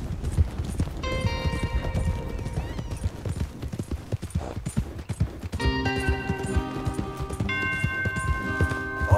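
Horse hooves clip-clop in a fast galloping rhythm as a rider travels in Red Dead Redemption 2, with tonal game music and occasional bell-like tones layered over the hoofbeats.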